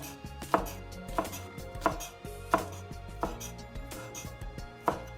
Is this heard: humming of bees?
no